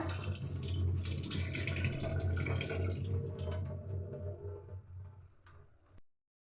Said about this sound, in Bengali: এটাকে ভালো করে ধুয়ে নেবো কবি ভালো করে ধুয়ে নিতে হবে চালটা